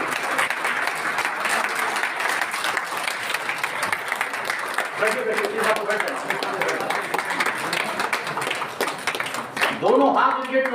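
An audience at an Indian Green Army environmental pledge event claps loudly and continuously, sustained applause with a voice rising near the end.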